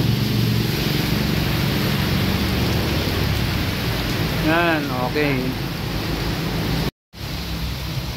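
Heavy rain pours steadily outside a Korean barbecue restaurant, a loud continuous wash of noise with a brief voice speaking over it midway.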